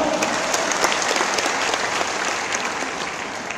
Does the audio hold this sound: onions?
no